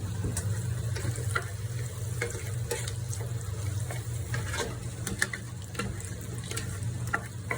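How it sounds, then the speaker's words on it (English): Salted pasta water is ladled into a homemade tomato sauce on low heat, giving soft liquid pouring and stirring sounds with occasional small clicks over a steady low kitchen hum. "take a ladle and grab a little bit of that salted water for your pasta and just add a little bit in there"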